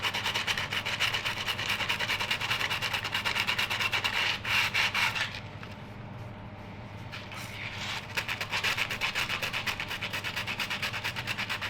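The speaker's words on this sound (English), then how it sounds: "Let us have 5 seconds of this wonderful sanding ASMR in 3, 2, 1." Close, continuous rasping of sandpaper rubbed back and forth in quick strokes, briefly easing to a softer scrape before resuming at full pace.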